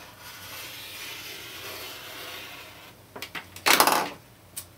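Fabric for a skirt ruffle strip is cut, soft scraping and rubbing followed by a few crisp snipping bursts close by, with no talk.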